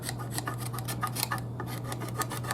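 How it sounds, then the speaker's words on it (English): Steady dry rasping as a fret rocker's edge is scraped along a guitar fret on an Epiphone Les Paul Junior, close and continuous over a constant low electrical hum, with brief repeated strokes. "we're just going to sort of take that edge and just sort of scrape it over like that."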